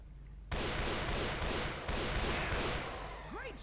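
Rapid bursts of gunfire crackle loudly and continuously in Left 4 Dead 2, with several sharp volleys and a brief quieter gap before the shooting resumes.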